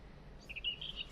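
Birds chirp calmly in a home garden: a few soft, high, short tweets in quick succession over a quiet, faintly hissing background.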